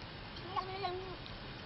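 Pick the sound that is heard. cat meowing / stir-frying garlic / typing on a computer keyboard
cat meowing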